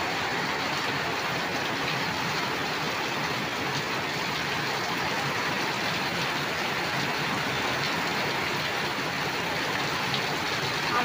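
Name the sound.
heavy rain pouring on a flooded village road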